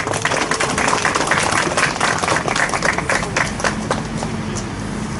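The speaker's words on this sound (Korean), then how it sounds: "여러분 힘찬 박수로 부탁드리겠습니다." Outdoor crowd applause at a press conference and rally in front of a city hall, dense sustained clapping spread across the whole stretch and gradually thinning toward the end, with some low background rumble.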